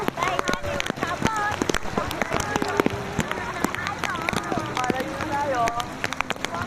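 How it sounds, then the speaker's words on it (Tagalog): Rain falls steadily at the sea under lively talk and shouting, with scattered splashes and droplet hits throughout. "Ang sarap maligo sa ulan!"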